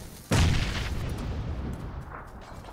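Grenade explosion in the battle royale video game PUBG: a sudden deep, heavy boom that hits hard and then rolls off into a long rumbling tail, fairly loud, with no talking.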